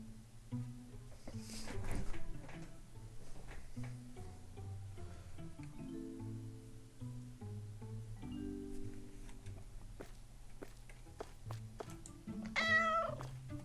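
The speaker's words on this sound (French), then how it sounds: "Miaou." A cat meows a few times in the supermarket video game Supermarket Together; the calls are short and faint, with one rising meow near the end, over quiet background sounds.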